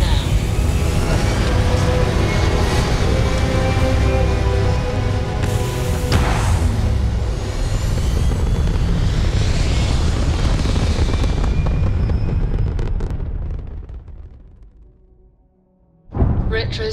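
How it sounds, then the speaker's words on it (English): A spaceship lifts off in the game Starfield with a loud, sustained rumbling roar that swells and holds for about thirteen seconds, then fades to near silence before a short burst returns at the end. "Lifting off now."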